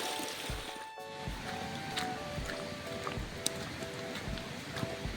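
A river flows steadily and close by, its rushing water forming a continuous broadband wash with a few brief knocks and clicks over it.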